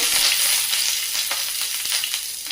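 Mustard seeds, curry leaves and green chillies hit hot oil in a pan on a gas stove while making veg fry idli, giving a steady, close bright sizzle with scattered sharp pops and crackles and no voices.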